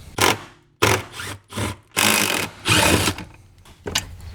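A 10mm socket wrench removing bolts from the factory JBL amplifier in a 2024 Toyota Tacoma, with bursts of ratcheting or buzzing driver noise separated by short pauses, loud and close.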